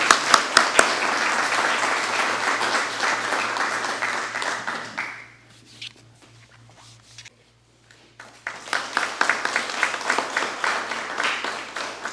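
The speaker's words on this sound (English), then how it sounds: "Let's give them a round of applause." Audience applause at a deputy transfer academy graduation, a loud burst of clapping that fades to near quiet for a few seconds, then a second wave of claps and cheering rises again.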